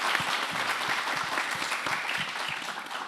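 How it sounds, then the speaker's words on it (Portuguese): Audience applause at a literary festival (FLIT) in Tiradentes, a dense, steady clapping from a sizable crowd filling the whole stretch at close range. "salva de palmas para a organização da FLIT"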